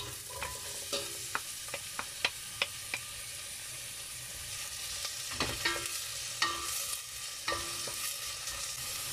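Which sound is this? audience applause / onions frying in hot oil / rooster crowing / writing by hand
onions frying in hot oil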